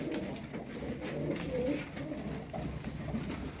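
Pigeons in a loft or coop, part of a group of twelve birds, coo softly and repeatedly at close range over a steady low background murmur.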